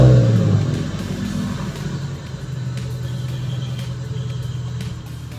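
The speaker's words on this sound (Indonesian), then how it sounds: "Oke, mesin mobil akan dihidupkan." A car engine started remotely from a smartphone surges loudly as it catches, then drops within a second to a steady, close idle rumble.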